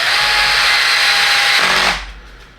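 A power driver runs a 14mm screw through the harmonic balancer pulley into a plate on an SCX10 III model crawler, giving a loud, close, steady whir that stops abruptly near the end.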